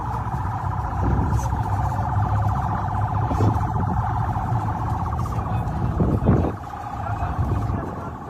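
An ambulance siren in Gaza, wailing continuously and loudly with a steady rising-and-falling tone, close by amid street noise and scattered thumps, with a brief louder burst before it drops slightly.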